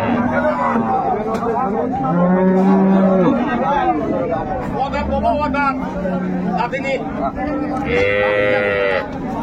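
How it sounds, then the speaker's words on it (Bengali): Improved-breed dairy cows and calves at the Raniganj cattle market in Dinajpur, with repeated lowing moos rising over a steady crowd babble and nearby voices talking. "এখানে চমৎকার একটি গাভী বাছুর দেখাশোনা চলছে"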